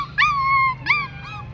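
A small corgi puppy lets out three high, wavering whimpers, the first the longest, close and clear over a low background hum.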